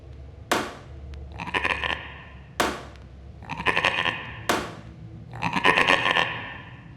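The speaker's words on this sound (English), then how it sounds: "With each point, his bleats grew louder." A cartoon goat bleats three times in a row, each bleat a strained, wavering call that opens with a sharp knock, spaced about two seconds apart and fairly close.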